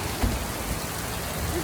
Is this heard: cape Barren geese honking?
no